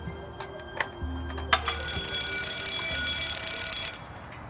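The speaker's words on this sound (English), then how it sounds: "That is an alarm that when the door's open, if it's open for more than 10 seconds, the alarm goes off" A door-open alarm in a calf shed sounds as a steady high-pitched electronic tone that holds for several seconds over clicks and a low hum, loud and close with no talking.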